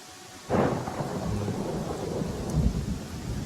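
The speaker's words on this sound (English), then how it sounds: "Oh, it started raining." Rain and thunder in the video game Pathfinder: Kingmaker: a sudden thunderclap breaks in after a quiet start, then a low rolling rumble continues under a steady wash of rainfall, with a second swell of thunder near the end.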